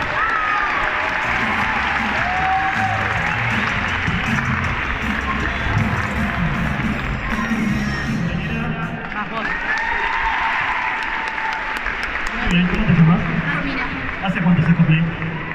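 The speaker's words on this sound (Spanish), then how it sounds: "Muy bien, un aplauso." Audience applause at an anime fan convention, a sustained wash of crowd clapping with scattered cheers, moderately loud and steady, swelling near the end, with voices mixed in.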